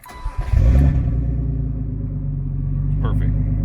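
A hot turbocharged BMW E36 engine cranks and fires, catching with a brief rev before settling into a steady low idle rumble, close up with a voice briefly over it.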